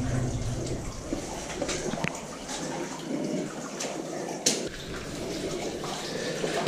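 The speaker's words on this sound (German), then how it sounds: "Wir gehen jetzt immer den fließenden Wasser hinterher" Water flowing through an abandoned mine tunnel near Bratislava, a steady rushing and trickling wash with faint drips and knocks over it, moderately quiet and echoing throughout.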